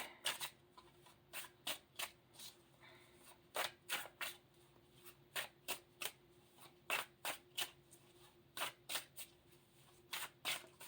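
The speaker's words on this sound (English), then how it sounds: "I love how it shuffles" A Dungeons and Dragons tarot deck being shuffled in repeated quick riffles, crisp papery bursts coming in uneven clusters, close up with quiet pauses in between.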